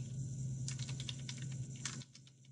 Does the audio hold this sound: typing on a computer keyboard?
yes